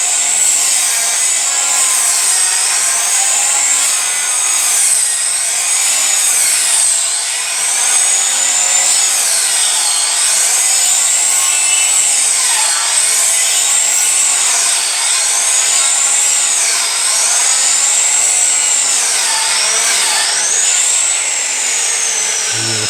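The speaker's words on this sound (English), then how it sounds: "See there just how blunt this blade is on this saw, but I've only got this one mitre saw" A mitre saw with a blunt blade grinds through wood in a loud, sustained whine, the pitch dipping and recovering repeatedly as the dull teeth bog down during the cut, with no speech over it.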